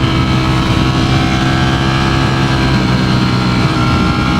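The V4 engine of a Ducati Streetfighter V4S motorcycle runs at a loud, steady, droning pitch while the bike is ridden, with heavy wind rush and no talking.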